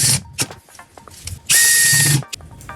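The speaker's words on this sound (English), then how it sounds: "Then I drill in some pilot holes where my screws are going to go into." Short bursts of a power drill whirring as it drills pilot holes in plywood, with one longer loud spin in the middle and handling noises between.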